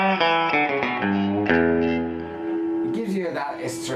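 Clean electric guitar with its bright tone capacitor switched on, a run of crisp, twangy picked notes ringing into a sustained chord, then a few more plucks, loud and close, played alone.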